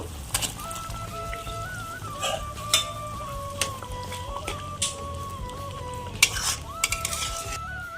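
Pieces of pointed gourd go into a simmering, bubbling spice mix in a cooking pot, with a spoon scraping and clanking against the metal in scattered knocks over a steady low bubbling.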